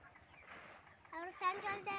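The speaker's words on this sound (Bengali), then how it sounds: "এই যে আমার মুরগি" Broiler chickens about 36 days old clucking in a poultry shed during hot weather, a few short nearby clucks and cackles, fairly faint.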